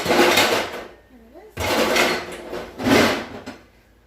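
A lid goes onto a pot of simmering lasagna meat sauce, with a couple of short clatters of metal against the rim between spells of talking in a home kitchen.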